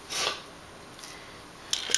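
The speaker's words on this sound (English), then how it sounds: "And then I took some of my fun little wavy scissors" Wavy-edged craft scissors cutting paper for a kid's medal, two brief crisp snips near the start and end with a faint rustle between, close and quiet.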